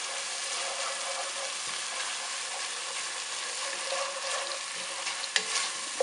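A Peruvian aderezo sautés in a pan with a steady, close sizzle, broken by a few stirring scrapes and light clicks near the end; no one speaks.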